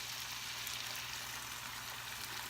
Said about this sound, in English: So I am just going to put it in and stir it a little bit.